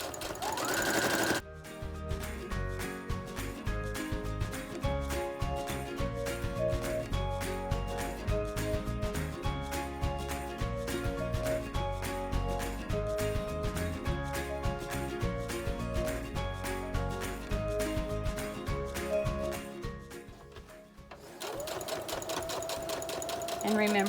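A sewing machine stitches ribbon down the center of a small dog dress, running in a fast, steady mechanical clatter for about twenty seconds before stopping, with brief sounds before and after.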